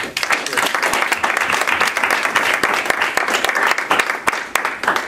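An audience at a transportation department recognition event applauds an honoree, a loud, close round of many hands clapping in a dense, slightly uneven patter.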